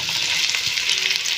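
Minced meat fries in a pan for a zucchini casserole, a steady bright sizzle with faint stirring movement over a short stretch, close and moderately loud, with no talking.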